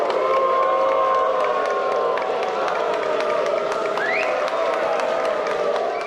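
Large crowd booing the former vice-mayor of Ribeirão Preto, a dense continuous roar of many voices with whistles cutting through, loud and unbroken for several seconds.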